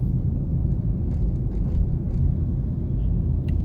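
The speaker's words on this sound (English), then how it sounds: "So we have some midday traffic right now." Midday road traffic in Kingston, heard from inside a moving car as a steady low rumble of road and engine noise, fairly loud and even, with faint higher sounds from outside.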